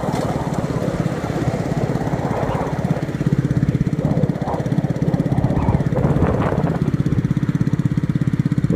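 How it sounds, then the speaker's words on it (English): Motor vehicles passing on a street, a steady loud engine drone with a pulsing, motorcycle-like chug up close, and a few brief voices heard faintly underneath. "Wait for these vehicles."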